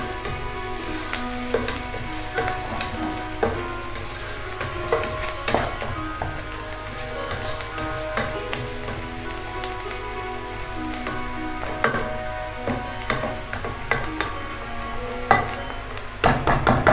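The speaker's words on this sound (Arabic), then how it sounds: "اهم حاجة ان انا احمر البصل" Onions frying in oil for Egyptian sayadeya rice, a steady crackling sizzle with scattered pops and stirring clinks running the whole time, close and fairly loud with no talking.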